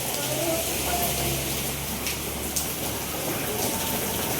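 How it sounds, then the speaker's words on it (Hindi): Heavy rain pours outside in a prolonged downpour, a steady, dense rushing roar of water that holds constant throughout with no break. "बरसात बिल्कुल भी कम नहीं हुई है"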